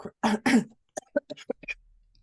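A person close to the microphone gives two rough coughs or throat-clearing bursts, followed by several short, soft vocal sounds.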